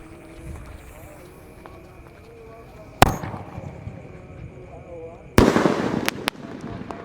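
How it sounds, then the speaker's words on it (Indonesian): A Hot Wheels 36-shot Roman Candle box firework goes off nearby at night with two sharp, loud bangs and crackling bursts, while people talk over a quiet background. "Setelah ini kita akan menyalakan Roman Candle yang kotak, guys"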